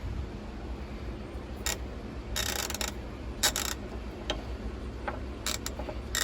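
A brand-new Capri 90-tooth ratchet clicks in short bursts, fine rapid ticking repeated several times at close range over a quiet background.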